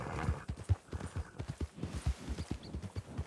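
Horse hooves in the El Rancho RP game, a quick, even clip-clop of many close hoofbeats at a trot, moderately loud and alone with no talking.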